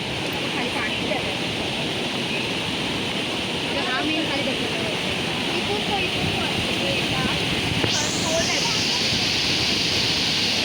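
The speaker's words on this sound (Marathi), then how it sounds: "मित्रांनो ह्यो आकडे धबधबो" Akade waterfall beside a glass bridge, a steady broadband roar of falling water filling the whole stretch, with faint voices now and then over it.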